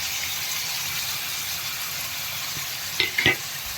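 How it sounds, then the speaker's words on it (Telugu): Prawns frying with curry leaves in a pan over high heat for prawn pickle, a steady loud sizzle throughout with a couple of brief stirring clatters near the end. "ఇప్పుడు మనం రొయ్యలు ఇందులో వేసి వేయించాలి. కరివేపాకులో రొయ్యలు వేయించాలి."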